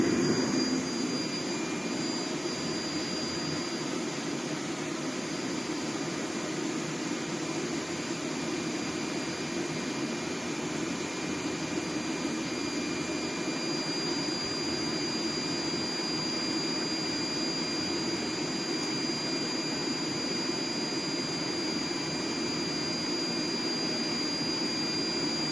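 A Heat Star portable propane heater running on its high setting gives off a steady, loud, even roar like rushing burner flame, constant from start to finish with a faint tonal whine.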